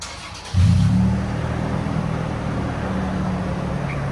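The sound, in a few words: Toyota Tacoma 4.0L V6 with Magnaflow exhaust revving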